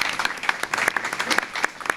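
Audience applause at a local civic event, steady dense clapping from a crowd with some sharper individual claps standing out, close and continuous throughout.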